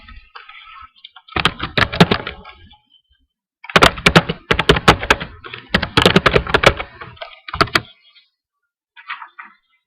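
Text being typed on a computer keyboard, close-up, as quick bursts of clicking keystrokes split by brief pauses, with a few louder thumps; no voices.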